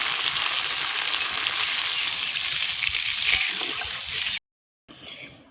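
Water poured into a hot pan of frying food hisses and sizzles loudly and steadily for several seconds, with a brief stirring scrape, then cuts off abruptly before a softer sizzle resumes.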